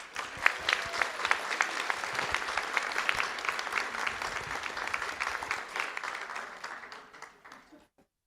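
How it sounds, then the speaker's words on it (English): Audience applause at a school board meeting, with sustained clapping from a crowd in a room, fairly close and even, fading out toward the end. "we want to give you a round of applause"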